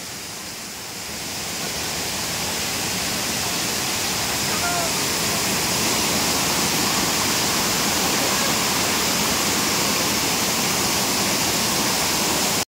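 Bamni Falls waterfall in Purulia roars as a dense, continuous rush of falling water, loud and close, building slightly in the first seconds and then holding steady.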